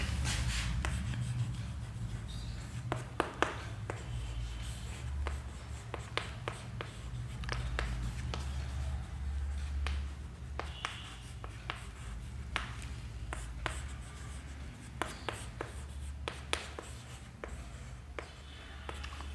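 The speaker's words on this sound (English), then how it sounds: "I am writing." Marker or chalk scratches and taps across a board during a Class 11 maths lesson on properties of triangles, a faint stream of short strokes over low room hum, with no talking.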